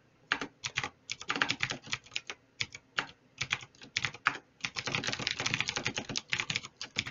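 Rapid, uneven bursts of keystrokes clatter on a computer keyboard, close and crisp, with short pauses between runs of typing and no voices.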